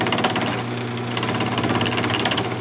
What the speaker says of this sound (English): Just using a roughing gouge.